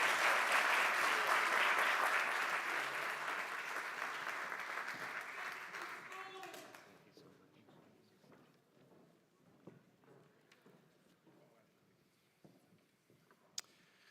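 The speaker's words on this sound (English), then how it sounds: "can you give our panel and Dee a round of applause?" An audience at an annual meeting applauds a panel with full, sustained clapping that gradually fades out after about seven seconds, leaving quiet room noise and a few scattered sounds.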